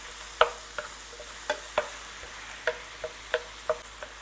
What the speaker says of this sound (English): I'm going to kind of make sure we get it all good and chopped up.